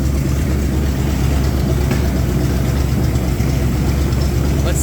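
The engine of a home-built car runs at a steady, loud idle, a continuous low rumble with a faint knocking texture and no revving.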